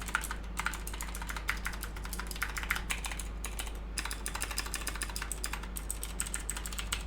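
Typing on an Epomaker GS87D mechanical keyboard with blue switches, steel plate, PBT keycaps and lubed stabilizers: a fast, steady stream of crisp clicky keystrokes close up, with a brief pause near the middle, no talking.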